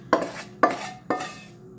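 A spoon mixes onions and spices into pierogi filling in a bowl, giving three sharp, evenly spaced clinks against the bowl, each fading quickly, close and fairly quiet.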